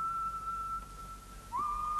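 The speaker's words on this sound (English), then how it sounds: "Each time he starts to whistle one of his tunes." A man whistles a tune as a single sustained, clear note that holds steady, then slides to a new pitch and holds again; it sounds thin and nearby over a quiet background.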